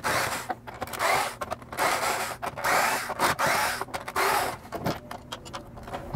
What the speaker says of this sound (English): we're gonna just undo all four of those, or all six of those screws